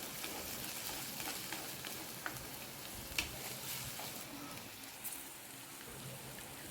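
Onions sauté in a pan with rock salt for a boiled egg gravy, making a faint, even crackle broken by a few soft pops.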